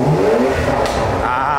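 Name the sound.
car engine revving with muffler removed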